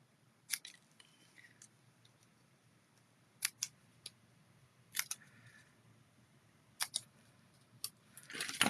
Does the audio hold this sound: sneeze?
no